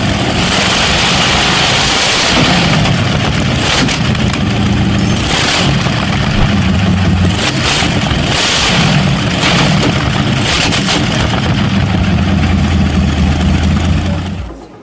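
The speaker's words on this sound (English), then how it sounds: "Each powerful rotation of the engine shakes the surroundings" The huge 28.5-liter engine of a 1910 Fiat S76 runs at the Goodwood Festival of Speed, a loud, continuous rough roar with deep throbbing firing pulses and crackling bursts, heard close and alone.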